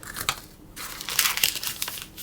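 Paper cases crinkling and rustling as they are pressed into tart bases for almond and apricot tarts, a close, brief run of crackly handling noise with no talk.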